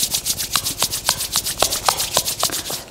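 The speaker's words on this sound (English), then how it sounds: "Join your both palms. Rub your palm." Palms rub together during a yoga session, producing a quick, even series of dry swishing strokes, close and moderately loud, with no talk over them.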